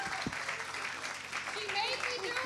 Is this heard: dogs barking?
no